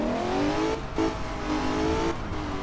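An American car's engine revs high in the Alarm für Cobra 11 racing game, the pitch climbing steadily before shifts, with two brief drops between rising runs over a loud, steady driving roar.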